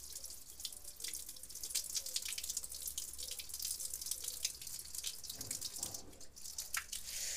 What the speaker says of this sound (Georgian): ეხლა უნდა მოუშვათ წყალი ონკანი.